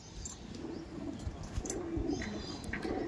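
Madrasi pigeons coo softly in a loft, low murmuring calls with faint chirps and a few wing flutters, fairly quiet and without talk.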